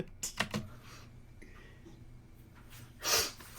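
A few quick, sharp sniffs near the start and a louder breathy sniff or snort near the end, with quiet background in between.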